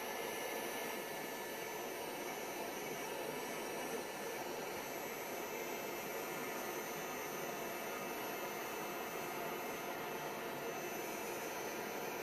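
Heat gun blowing over a resin ocean-wave coaster, a steady unbroken airy roar with a high whine, fairly quiet and constant throughout.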